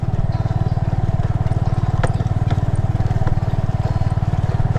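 Motorcycle engine running steadily at low speed while carrying a heavy load of ten sacks of fertilizer, a loud, close, continuous rhythmic putter with a few brief knocks over it and no talking.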